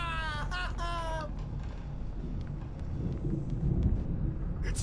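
A thunderstorm rumbles in the video game Alan Wake Remastered, a low, swelling roll of thunder with rain hiss building toward the end after a brief strained voice at the start.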